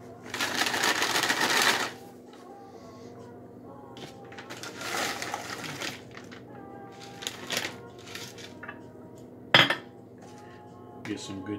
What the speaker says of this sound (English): Get some good chips out here.